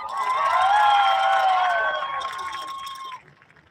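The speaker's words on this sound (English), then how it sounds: "we gotta have a cheer for the good old" A stadium crowd at a university soccer event cheers loudly for the USA, a broad roar of many voices that swells and holds strong, then fades and cuts off near the end.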